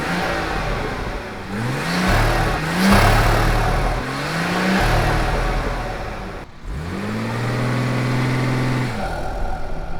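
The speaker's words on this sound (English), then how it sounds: "This is what the factory intake sounded like." A nearby car engine with its factory intake revs repeatedly, rising and falling several times with a short dip between bursts, then holds one longer rev before dropping.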